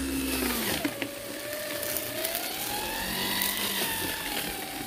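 Makita cordless brush cutter fitted with a hammer knife mower attachment, a steady whining motor close by whose pitch drops sharply early on under load, then holds and wavers as it cuts through brush, with no talk.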